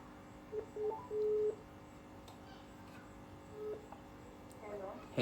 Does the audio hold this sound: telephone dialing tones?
yes